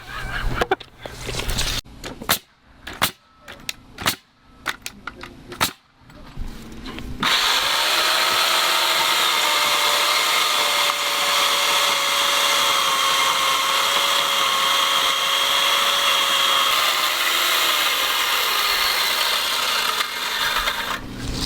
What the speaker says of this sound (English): Love that saw, baby.